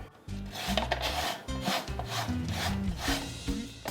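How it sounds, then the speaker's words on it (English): Citrus peel such as orange, lemon or lime scraped across the sharp blade of a Pampered Chef zester, a close, steady series of dry rasping strokes with a rubbing texture and no talking. "Grab whatever it is you're going to zest, orange, lemon, lime, and you're going to go the direction of the blade"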